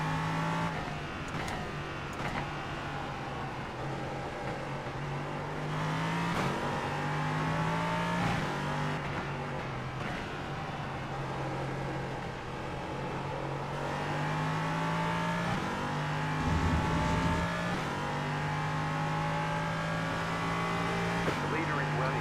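Race car engines in the iRacing sim in a multiclass race, a steady droning engine note with shifting pitch and occasional upshifts, with a voice talking over it throughout.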